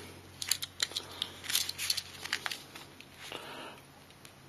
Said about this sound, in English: if we put our thumbnail here we can move this little lever down and that enables us to change the number